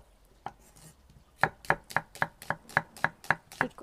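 Knife chopping an onion into thin strips on a board, one early cut, then a quick regular run of about ten crisp chops, close and clear in a quiet kitchen.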